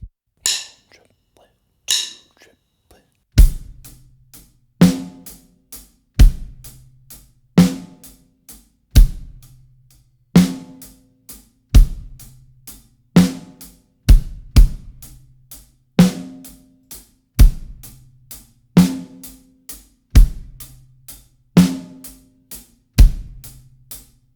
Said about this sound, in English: we're just doing our eighth notes on the hi-hat